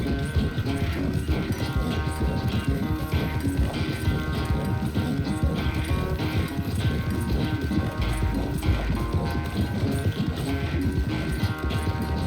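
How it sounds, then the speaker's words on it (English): Horse galloping in the video game Red Dead Redemption 2, a steady rapid clip-clop of hooves that continues loudly and evenly throughout, with game music and ambience layered beneath. "У тебе лошадь вообще устає чи ні, хлопаче?"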